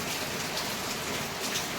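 Heavy monsoon rain pours down steadily outdoors, a dense, even hiss of drops close by with no pauses.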